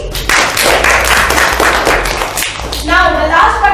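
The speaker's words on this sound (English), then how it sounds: "Now clap for Pariti." Schoolchildren applauding a young participant at a school multiplication-table recitation contest, a dense, loud burst of clapping that continues for a few seconds before a voice cuts in.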